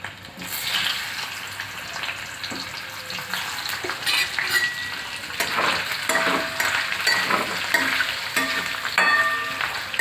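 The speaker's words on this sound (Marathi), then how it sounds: "आता हे तेल गरम होत आहे तर आपण हे असं नुसतं तेलामध्ये असं परतून घ्यायचं" Chitale brand paneer fries in hot oil in a pan, giving a continuous close sizzle and crackle, with frequent scraping and tapping as a spatula moves the pieces around.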